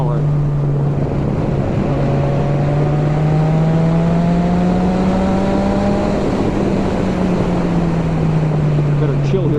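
A 2019 Yamaha XSR 900 motorcycle fitted with a Yoshimura exhaust rumbles steadily near the listener, its engine note swelling and easing gently as it cruises, over continuous road and wind noise.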